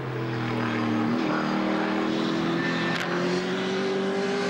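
A race car engine comes out of a corner held in third gear without a shift, a loud continuous drone that climbs steadily in pitch as it pulls hard, with a brief sharp click partway through.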